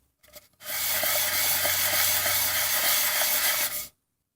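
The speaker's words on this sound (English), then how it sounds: "I flat sand all my top plates, bottom plates, any steels that I reuse" Steady, even rasping of flat wet sanding on metal transmission plates, starting abruptly and running for about three seconds before stopping cleanly.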